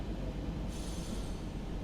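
A steady low rumble of a train in Train Sim World 3 on the Mainz–Koblenz line, joined partway through by a high hissing squeal like air brakes releasing, continuous and loud.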